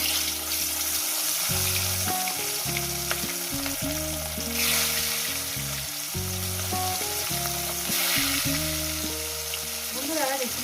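Bhangan fish sizzle as they fry one by one in hot salted oil, a steady close crackle beneath louder background music.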